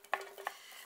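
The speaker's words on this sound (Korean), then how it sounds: "너무 색깔나게 볶지 마세요. 양파가 약간 투명해질 때까지 볶아준다." Onion stir-fried in a spoonful of cooking oil in a hot pan over low heat, with two faint spatula scrapes and stirring clicks against a soft, quiet sizzle, no talk.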